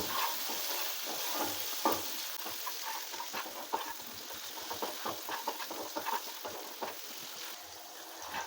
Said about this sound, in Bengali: এবার আমি খুব ভালো করে মশলাটাকে কষিয়ে নেব।